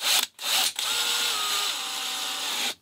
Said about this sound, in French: Je prends ma visseuse et je viens visser